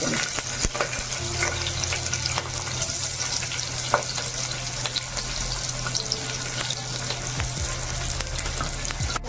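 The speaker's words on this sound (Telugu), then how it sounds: "ఆయిల్లో ఈ విధంగా ఒకసారి కలుపుకుంటే ఈ ఆయిల్ అంతా కూడా ఈ ముక్కలకి పడుతుంది ఇవి కొంచెం గోల్డెన్ బ్రౌన్ అంటే పచ్చి వాసన పోయేంత వరకు కూడా మనం వేయించుకుంటే సరిపోతుంది" Green chillies, onions and bay leaf fry in oil in a pan for sweet corn biryani, making a loud, continuous sizzle with occasional spoon taps and stirring noises.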